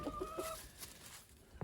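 Backyard hens, Rhode Island Reds and sex link chickens, give a few quick, soft clucks close by over a faint, steady outdoor background, then trail off into ambient noise.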